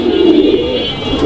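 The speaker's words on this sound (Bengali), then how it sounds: "এখানে একটা সিঙ্গেল কবুতর আছে" Pigeons coo steadily at close range, a loud continuous low throaty warble with no talking over it.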